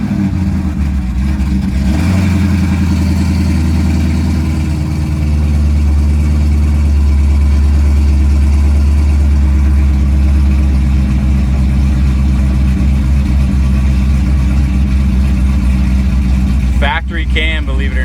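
A 2014 Chevrolet Camaro SS engine idles and hums steadily at close range while reversing, with low rumbling throughout and a faint beep near the end.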